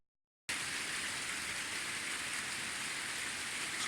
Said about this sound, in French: Mais là, ça pleut des grosses gouttes.